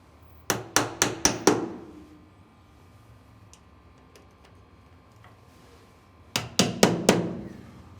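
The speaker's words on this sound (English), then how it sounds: "Tap them in with a hammer." Two bursts of four sharp hammer taps each, close and loud, as plugs are tapped into a hinged security door frame, separated by a few seconds of quiet room tone.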